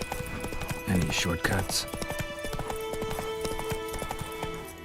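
Rhythmic clip-clop of the horse Roach's hooves galloping in The Witcher 3, steady and fairly close under game music, with a brief whinny and someone speaking over it.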